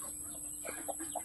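A few soft, low clucks from a turkey, spaced irregularly over a steady background hum, close by and fairly quiet.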